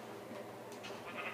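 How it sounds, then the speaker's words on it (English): Sheep in the video game Minecraft bleat faintly a few times in quick succession over a steady low background hum. "There's 3 sheep up here."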